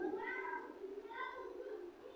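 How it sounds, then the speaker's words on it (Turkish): A cat in a park gives two soft, drawn-out meows in quick succession, faint and a little distant, over quiet outdoor background. "o kedi miydi?"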